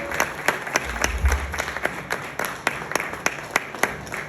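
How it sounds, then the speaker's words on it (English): An International Women's Day event audience gives a thin, scattered round of applause, with distinct individual claps spaced out over a soft crowd murmur. "Applause going"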